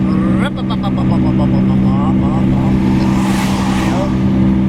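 A small car engine revs steadily with a throaty, buzzing drone, loud and close, while someone talks over it.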